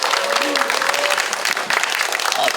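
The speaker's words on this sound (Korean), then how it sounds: "우리 김누리 교수님께 다시 한번 박수 한번 부탁드리겠습니다" An audience at a humanities lecture applauds Professor Kim Nuri, brisk clapping close and loud with voices mixed in over it.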